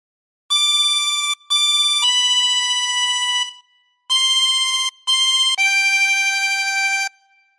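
Silent Night is played on a chromatic harmonica, clear sustained reedy notes in short phrases with brief breaks between them, close and solo with no voice.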